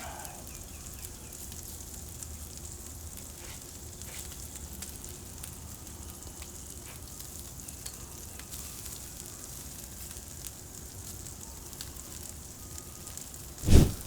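A NY strip steak sizzles on a Pit Boss grill with a steady, even crackle and hiss that holds at moderate volume throughout, ending in a brief sharp knock.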